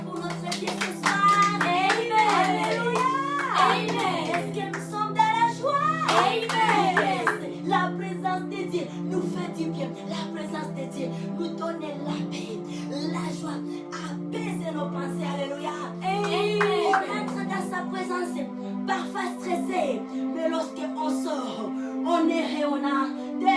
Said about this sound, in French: Nous acclamons très fortement pour notre Dieu ce soir.